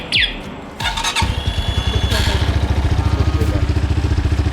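A motorcycle's remote alarm gives a short rising squeal, then the engine cranks and catches, settling into a loud, close, steady rhythmic idle; a voice is briefly heard.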